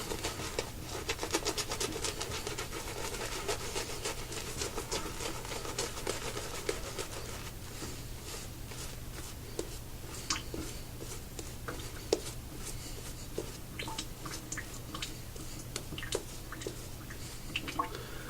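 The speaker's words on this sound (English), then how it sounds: "I'll begin lathering up for the second pass." A shaving brush works up a lather of Ginger's Garden British Empire shaving soap, making soft, continuous wet squishing and patter close by, fairly quiet and unbroken, with no talk over it.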